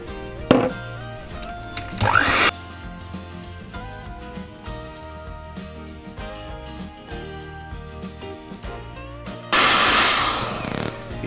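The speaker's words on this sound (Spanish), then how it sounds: "Y entonces batimos nuestros ingredientes" Electric mixer beating cake batter ingredients for pan de huevo, with short loud whirring bursts near the start and a longer buzzing run near the end over background music.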